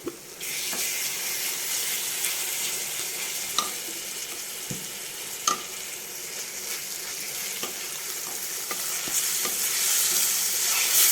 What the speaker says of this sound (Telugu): అవునండి, చక్కగా ఉల్లిపాయ వేగిపోయింది. ఇప్పుడు ఇందులోకి అల్లం వెల్లుల్లి పేస్ట్ వేసుకుందాం.